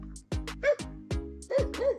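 Several dogs bark in a neighborhood, giving two or three sharp yips and barks with short pauses between them. The barking sounds fairly close and clear, with no talk over it.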